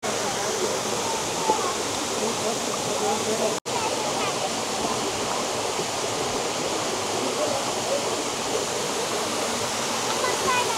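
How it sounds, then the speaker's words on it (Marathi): The Nixenfall waterfall in Austria's Salzkammergut roars as a dense, steady rush of falling water, loud and close, with one momentary dropout partway through. "वॉटरफॉल पाहायला आलो."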